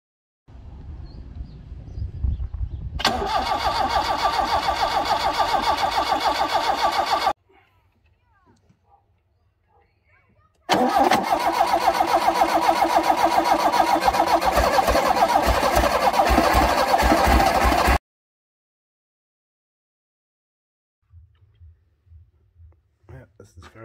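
A Toyota KE36 wagon's 3T-C engine cranks and catches, runs roughly for a few seconds, then cuts out. After a pause it fires again and idles loudly for several more seconds before stopping. Faint low sounds follow at the end.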